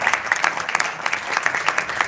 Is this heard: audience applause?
yes